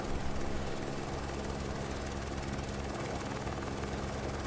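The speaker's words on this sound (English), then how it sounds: "Anyways, let's go back to the chopper." A helicopter engine in Microsoft Flight Simulator drones steadily, a continuous low rotor thump and turbine whine at even loudness throughout, with no talking over it.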